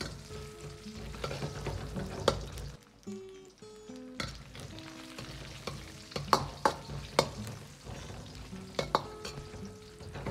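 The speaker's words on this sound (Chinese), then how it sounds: "油热后先下入腊肉煸炒，炒出腊肉的香味" Cured pork (larou) is stir-fried in hot rapeseed oil in a wok, giving a steady sizzle broken by repeated sharp spatula scrapes and clacks, close and without speech.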